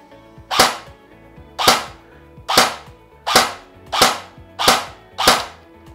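An airsoft M4 CQB RIS rifle with an electronic trigger (CM506) fires six single shots at an even, regular pace. Each report is a sharp, loud crack that fades quickly before the next.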